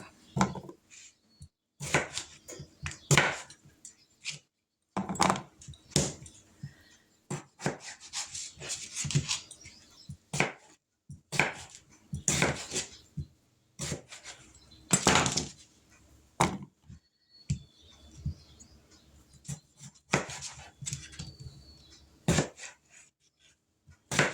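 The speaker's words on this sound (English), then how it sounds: "We're going to cut these in just small, bite-sized chunks. We're going to put them in this bowl." Knife chopping vegetables into small bite-sized chunks on a cutting board for a taco meatloaf, with irregular bursts of close, sharp cuts and occasional clatter as pieces drop into a bowl.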